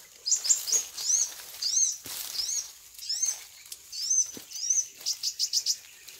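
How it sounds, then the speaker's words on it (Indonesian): Small birds chirp and tweet in quick bright phrases, with several close calls overlapping and ending in a rapid run of short notes, fairly loud and near with no talking. "Banyak burungnya, gak mau turun bro."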